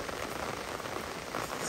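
Rain falls steadily near a shed in the Nagarhole forest, a soft continuous patter of drops that holds at an even, fairly quiet level with no one speaking.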